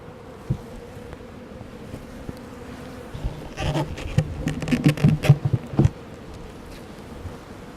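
Honey bees buzz around an opened hive during a beekeeping inspection in the UK, a steady close drone that swells into a denser burst of buzzing near the middle, with no talking.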